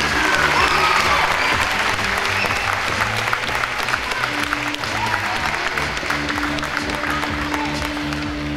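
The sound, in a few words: applause for the athletes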